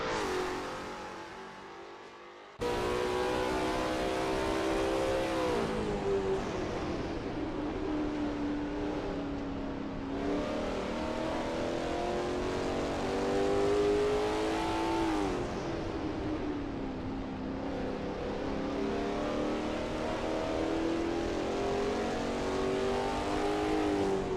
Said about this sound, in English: David Zahn is expertly commanding that car through Bosch curve.